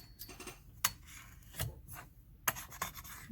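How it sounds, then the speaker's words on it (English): A metal ruler scraping a polymer clay tile clean, giving several short raspy scrapes at irregular intervals, close and fairly quiet with no talk. "I've been using this metal ruler to scrape my tiles rather than my blade."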